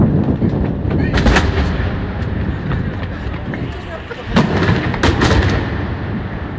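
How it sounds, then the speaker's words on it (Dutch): Rapid bursts of sharp bangs and crackles from an FC Barcelona season-ending fireworks show go off repeatedly nearby, loud and dense, with people shouting excitedly over them. "Dat is zeker dat vuurwerk."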